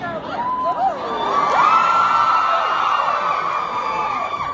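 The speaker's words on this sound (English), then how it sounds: "those were shrieks of horror that they were" A fan convention crowd at a panel shrieks and cheers loudly, rising and falling high-pitched squeals layered over a sustained roar of voices.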